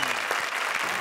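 A studio audience at a live comedy show claps loudly and steadily for a second, a dense, close burst of applause.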